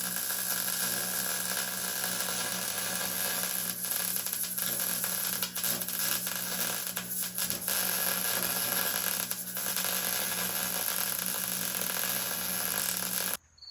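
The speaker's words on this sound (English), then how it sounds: "We'll go ahead and start with the plug welds, and then we'll worry about the end." Plug welding on a Jeep Wrangler axle housing produces a continuous close, harsh sizzling crackle with a low electrical hum underneath, holding steady for about thirteen seconds before cutting off abruptly.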